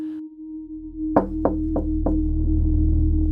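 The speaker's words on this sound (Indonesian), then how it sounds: "3 ketukan. Pelan." Four soft, evenly spaced knocks on a hotel room door over a steady low hum, followed by a rising murmur of ambient noise.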